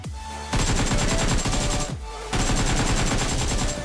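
Automatic gunfire rattles in rapid bursts during a battle royale video game, two long loud volleys split by a short pause.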